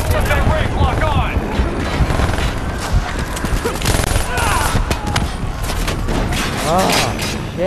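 Rapid gunfire rattles from enemies shooting at the player in the Call of Duty Black Ops 3 video game, dense bursts layered with explosions and game effects, loud and continuous throughout.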